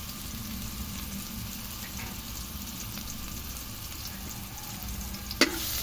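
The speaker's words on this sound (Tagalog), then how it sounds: "Ilagay ko na yung bawang at saka sibuyas." Garlic and onion sautéing in hot oil in a pan for adobong sitaw, a steady, even sizzle throughout with a small clank near the end.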